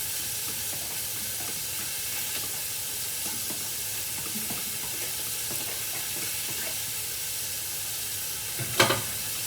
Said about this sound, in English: Give that a quick swirl.